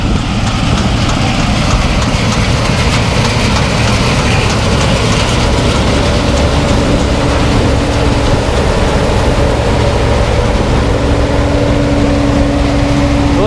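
A tractor works through a muddy 2017 harvest in second gear, its engine a steady, loud drone with a constant mechanical rattle and whine that runs the whole time. Nobody speaks over it.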